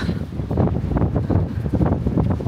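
Wind gusts steadily across an open microphone at the eroded rock formations of Yehliu, Taiwan, a constant low rumbling buffet with no voices.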